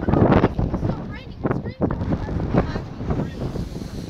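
Strong wind buffets the microphone at a railway station level crossing in Nottinghamshire, a loud, steady rumbling roar with gusty swells, while someone talks over it.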